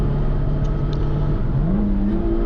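A Honda S2000 accelerating on the Thunderhill East Bypass race track, a steady close engine drone with pitch climbing near the end as throttle builds, alone without voices.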